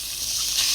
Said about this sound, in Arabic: حطينا اللحم مرحي مع الثوم يتقلاو